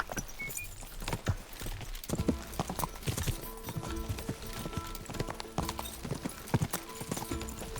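A horse galloping with a rider in Kingdom Come Deliverance 2, rapid rhythmic hoofbeats pounding close and steady through the whole stretch, with a brief whinny near the start and no talking.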